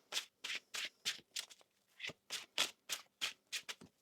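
A tarot card deck is shuffled by hand in a series of about a dozen short, crisp riffling bursts at a fairly even rhythm, quiet and close, with no one speaking.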